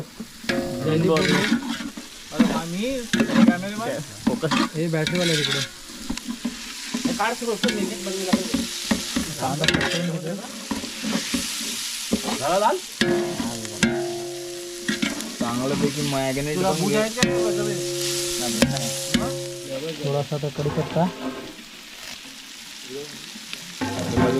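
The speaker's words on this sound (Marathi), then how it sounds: "आणि ते कांद्यामध्ये मिक्स करतो" Onions stir and fry in a large pan for a village chicken biryani party, with a loud continuous sizzle and repeated scraping stirs while several people talk over it throughout.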